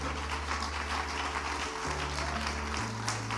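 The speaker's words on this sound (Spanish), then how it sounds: "Dele un aplauso al Señor." A church congregation claps together in steady, dense applause over sustained low music notes, a full crowd sound without any voices.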